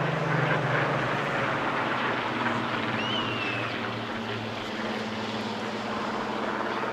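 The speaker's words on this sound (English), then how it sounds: "Just listening to the blend of the two aircraft engines as they flew past our microphones here at the BBC Essex commentary point." Two aircraft engines blending as they fly past at a seaside airshow, a broad sustained drone with steady propeller tones that swells and slowly eases away, heard at a distance without talk.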